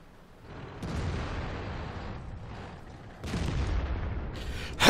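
The FV304 self-propelled artillery gun fires in World of Tanks, two heavy booming shots with long rumbling tails a couple of seconds apart, then a sharp crack at the end.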